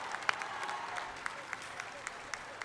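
Spectators at a home school tennis match clap after a point, giving a faint, scattered patter of applause with a few sharper claps spread over a few seconds.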